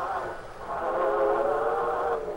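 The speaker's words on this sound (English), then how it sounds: "There's a train." A train runs along the track nearby, its steady rumble and a sustained horn-like tone holding through the whole stretch at fairly high loudness.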